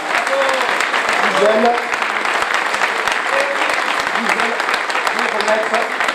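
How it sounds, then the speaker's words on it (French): An audience at a town medal ceremony claps steadily and warmly for the whole stretch, with scattered voices talking faintly beneath the applause. "je vous demande d'applaudir très fort Thérèse et Jacques"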